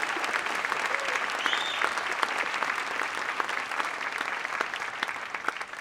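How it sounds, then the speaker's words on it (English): Steady applause from an audience at an eighth-grade winter school concert, dense clapping filling the hall continuously without pause, fairly close and strong throughout. "So let's give them a round of applause."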